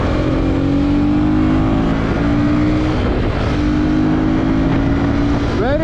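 A Husqvarna Vitpilen 250 motorcycle rides through traffic, its engine droning loud and steady with a rising rev at the end as it overtakes scooters, with wind rush underneath.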